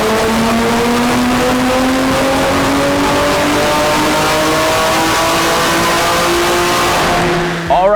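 A built-motor BMW G80 M3 making about 1,000 horsepower revs hard on a dyno, its engine note climbing steadily for nearly eight seconds, loud and close, then cutting off abruptly at the end.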